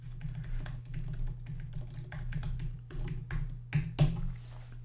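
Typing on a computer keyboard while working in a web browser's developer console, a steady run of soft, quick key taps at close range with a couple of sharper strokes near the end, no voices.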